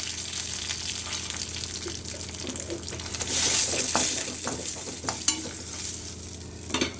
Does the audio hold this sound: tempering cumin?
yes